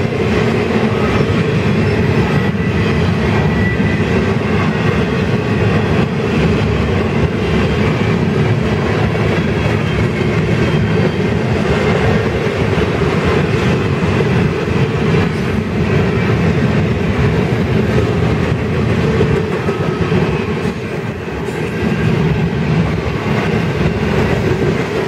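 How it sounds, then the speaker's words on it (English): A northbound local freight train led by two Union Pacific locomotives rolls past in Girard, Illinois, a loud, steady rumble of engines and rail cars that holds for the full length without letting up. "we have the northbound local coming, and he's got two Union Pacific locomotives on there"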